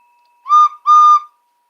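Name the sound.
whistle blown as a sound effect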